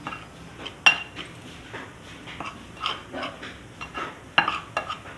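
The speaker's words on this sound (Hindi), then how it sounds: "अच्छी तरह से मिक्स कर लूँगी नमक को।" Spoon clinks and scrapes against a bowl in an irregular rhythm while flour and salt are mixed together for potato zinger fries, close and fairly loud.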